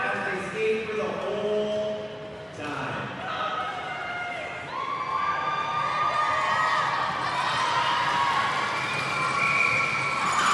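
Crowd noise from fans at an indoor skills competition: continuous cheering and shouting with scattered bangs and thumps, and a commentator speaking throughout.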